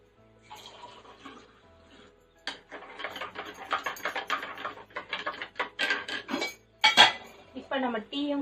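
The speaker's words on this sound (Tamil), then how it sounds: "இப்ப நம்ம டீயும் கலந்துடலாம்." A spoon stirring tea in a cup, rapid metallic clinking and scraping against the sides in busy bursts, close and fairly loud, with a short pause early on and no talking.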